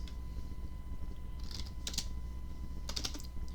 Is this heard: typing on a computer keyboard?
yes